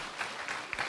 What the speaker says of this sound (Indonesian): Kita kasih tepuk tangan buat semua yang sudah melayani.